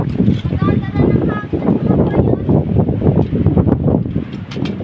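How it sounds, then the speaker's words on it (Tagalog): Strong wind buffets the microphone in a loud, continuous rumbling roar with gusty surges, while people talk faintly underneath. "Lakas ng hangin."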